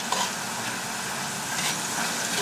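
Meatloaf ingredients sweat in a very hot pan on a stove, giving a steady, close sizzle and frying hiss that holds evenly throughout with no talking.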